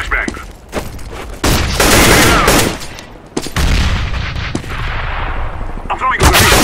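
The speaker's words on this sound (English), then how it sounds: "I'm throwing a flashbang!" A flashbang grenade going off in the CS:GO video game, heard as loud broadband blasts and bursts mixed with heavy in-game gunfire, repeated several times over a few seconds.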